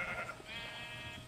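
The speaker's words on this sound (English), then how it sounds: "Lots and lots and lots and lots and lots of sheep." A sheep from the video game Minecraft gives a single short bleat, fairly faint and alone, with a wavering nasal tone.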